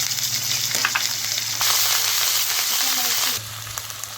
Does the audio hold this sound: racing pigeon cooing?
no